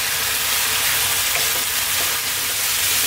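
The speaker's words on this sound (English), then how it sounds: "Moving this around all the time, remaining on that high heat" Chicken and mushroom stir fry sizzling hard over high heat in a pan, a steady, loud, continuous frying hiss with faint clinks of stirring throughout.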